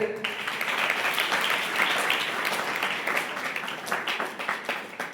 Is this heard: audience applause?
yes